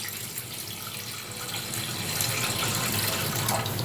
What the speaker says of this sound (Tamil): பாத்திரத்தை வச்சோடனே நம்ம தண்ணி ஊற்றிக்கலாம்.